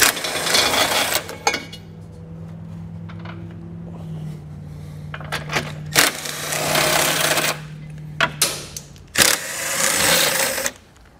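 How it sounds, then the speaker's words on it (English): An 18 mm socket on a ratchet or power tool removes the nuts from the impact bar of a 2021 Mini Cooper during a hidden trailer hitch install, heard as several sharp mechanical bursts and a sustained whirring run up close. "We'll take an 18 millimeter socket and remove both of those."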